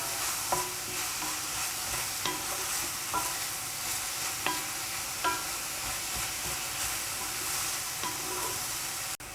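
Mushrooms and seafood such as cuttlefish, octopus and shrimp sizzle and crackle in a hot pan for a seafood casserole, with steady frying hiss and repeated sharp scrapes and knocks of stirring close up.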